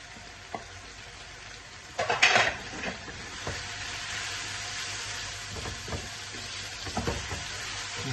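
Green chilies, five of them, dropped into hot oil for restaurant-style chicken macaroni, a sudden crackling burst followed by steady frying sizzle with occasional stirring clinks, close and with no talking.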